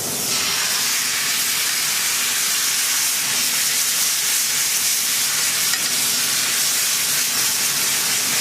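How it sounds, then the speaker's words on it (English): Demi-glace hits a hot pan for coq au vin, setting off a loud, steady broadband sizzle with steam hiss that runs unbroken for the whole stretch, close up and with no voices. "I want to get this demi-glace in the pan now."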